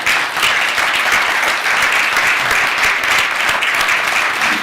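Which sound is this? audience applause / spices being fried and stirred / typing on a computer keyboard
audience applause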